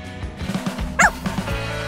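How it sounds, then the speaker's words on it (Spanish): A small female dog gives one short, high yip amid soft snuffling and low rhythmic thumps, close and brief. "me apetece jugar con tu perrita"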